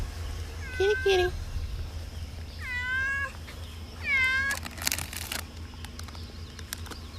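A cat meows three times in rising, drawn-out cries spaced a second or two apart, fairly close, followed by rustling and brief clattering noises.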